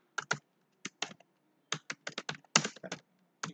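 Someone types a name on a computer keyboard in quiet, close, irregular bursts of crisp key clicks with short pauses between groups.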